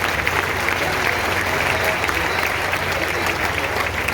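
Steady, dense applause from a church congregation at a priestly ordination, many hands clapping at once, even in level throughout.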